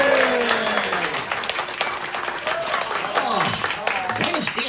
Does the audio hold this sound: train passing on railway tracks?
no